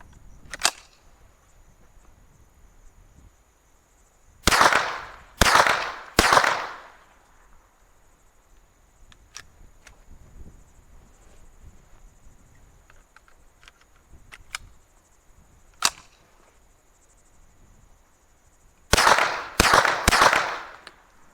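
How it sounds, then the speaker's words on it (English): A Marlin Papoose .22 rifle with a 16-inch barrel being fired, sharp cracking shots in bursts: one early shot, three quick shots, a few scattered single shots, then three more at the end, against quiet. "But our test rifle is going to be this Marlin Papoose with a 16-inch barrel."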